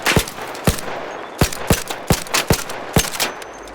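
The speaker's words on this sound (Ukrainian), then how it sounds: "Ну давайте їх постріляємо." Sharp gunshots crack out in irregular bursts in ARC Raiders, about a dozen close, loud shots fired at drones over a faint background hum, with no talking.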